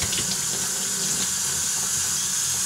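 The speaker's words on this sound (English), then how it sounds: "flush the cavity out real good with water" Running tap water pours steadily into a sink, flushing paint residue out of a spray gun cavity during metal finishing; a continuous, close splashing stream with no talk.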